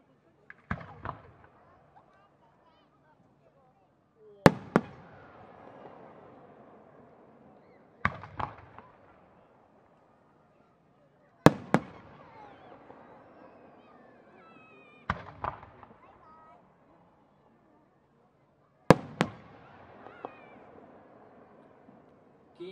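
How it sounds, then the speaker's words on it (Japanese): Five or six silver chrysanthemum firework shells burst one after another, each a sharp loud bang followed by a crackling, fading sizzle of burning aluminium, spaced a few seconds apart. "銀波というような、これも菊型の花火です。"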